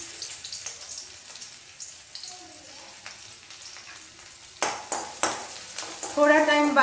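Crushed garlic and green chilli hit a hot pan and crackle and sizzle steadily. Stirring clatters over the frying near the end, and the sizzle grows louder as it goes on.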